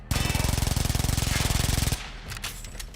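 Rapid, evenly spaced bursts from a game weapon emptying its whole clip in one continuous string of shots, loud and close, then cutting off into a few softer impacts and a quieter tail.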